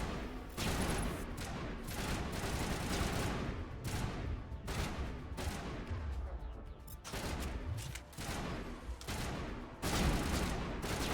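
Gunfire in the Mass Effect game during a fight with Geth troopers: sustained loud bursts of rapid shots in repeated volleys with brief pauses, dense and close, with some talk mixed in.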